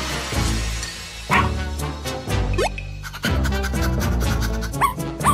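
A cartoon dog barks several times in short bursts over a cartoonish music backing, loud and close, with no talking.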